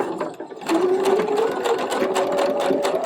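A scrunchie being stitched on a sewing machine: a close, rapid needle chatter that runs continuously with a slight rising whine as the motor speeds up, with no talk over it.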